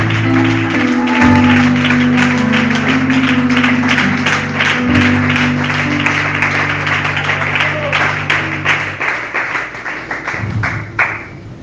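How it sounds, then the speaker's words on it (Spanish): Church congregation applause, steady crowd clapping over sustained organ or keyboard chords, loud and continuous before thinning near the end. "Denle un aplauso al Señor Jesucristo."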